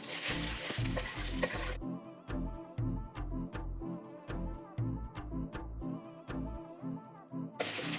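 Butter sizzling and frying in a pan while fried quinoa is cooked, a steady close crackle with rhythmic scraping and stirring strokes throughout and no talking.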